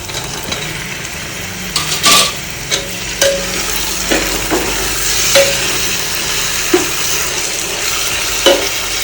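Tomatoes frying in a pan for mutton biryani, a steady sizzle broken by a dozen or so sharp scrapes and taps of a spoon stirring against the pan.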